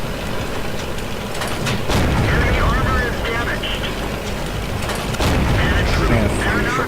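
Tank cannon fire from the World of Tanks game, with a T49 tank in play: two heavy booming blasts, near and loud, around two and five seconds in, over a constant engine rumble, with someone talking in between.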